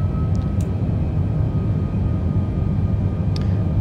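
Iran Air Airbus airliner climbing toward cruise altitude on a Tehran to Qeshm flight, heard from the cockpit: a loud, steady broadband roar of engines and airflow with a constant low rumble throughout.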